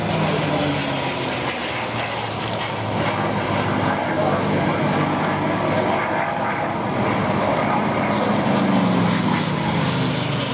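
A P-51 Mustang propeller fighter flies past at the Duxford air show, its engine a loud, steady drone filling the whole stretch, with a commentator's voice running under it.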